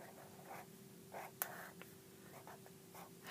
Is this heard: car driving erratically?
no